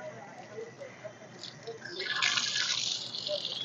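Water runs from a tap at a washing spot on Chamundi Hills in Mysore, a soft trickle that grows into a louder steady gush partway through, with people talking faintly in the background.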